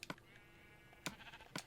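Sheep in Minecraft bleat in a few short, sharp calls spaced apart, with a faint electronic tone lingering between them in an otherwise quiet game scene.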